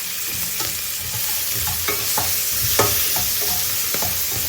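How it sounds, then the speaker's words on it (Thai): Swedish mushrooms stir-frying in a pan for a pasta dish, with steady sizzling and repeated scraping clinks of a utensil against the pan, close up and with no talking. "ส่วนเห็ดมันปูเวลาเราเอามาผัด"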